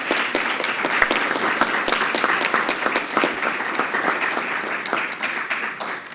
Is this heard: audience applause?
yes